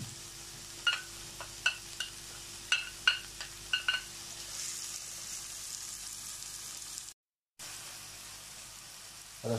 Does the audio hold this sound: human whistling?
no